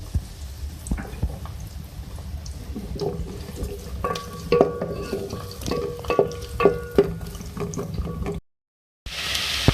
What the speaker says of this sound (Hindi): फिर इसमें के अंदर हम ऐड करेंगे 2 मीडियम साइज़ की प्याज, फ्राई करेंगे